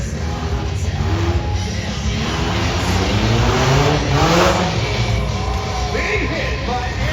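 Cars racing around the arena at a monster truck show at the Washington State Fair in Puyallup, engines revving loudly and continuously with a crowd and announcer voices mixed underneath.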